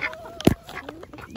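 Ducks quack among chickens while eating, with one loud close quack over scattered fainter calls and rustling.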